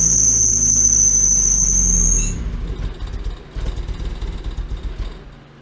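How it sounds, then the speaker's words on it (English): A loud, steady high squeal from a loose belt on a Mazda Miata engine at idle, holding for about two seconds over the engine's low drone before cutting off, leaving a rougher, quieter idle rumble. "it sounded like a loose belt"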